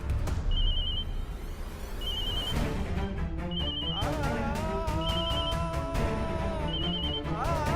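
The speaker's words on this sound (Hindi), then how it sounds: "प्रीति के पापा फोन क्यों नहीं उठा रहे?" Telephone ringing unanswered in a Hindi TV drama home, a repeating electronic ring pattern at steady intervals over a dense music background, moderately loud.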